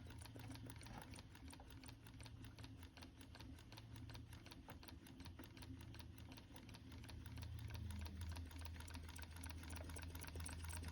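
A 12-volt two-cylinder, four-piston solenoid engine with push-pull action on the crankshaft runs slowly, giving a rapid, even mechanical clatter of repeated clicks like a sewing machine, close and steady, with a low hum that swells slightly toward the end.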